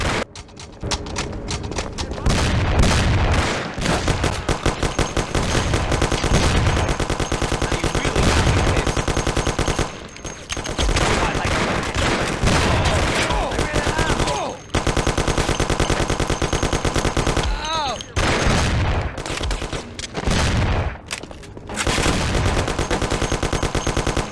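Heavy gunfight in the Mafia: The City of Lost Heaven video game, with dense, continuous machine-gun and rifle fire rattling almost nonstop, broken by a few brief lulls and scattered distant shouts.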